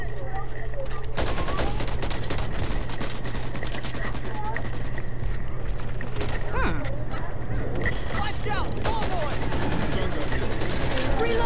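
Sniper rifle shots and bursts of gunfire ring out in the zombie shooter Back 4 Blood amid a busy game soundscape, with players talking over the action throughout.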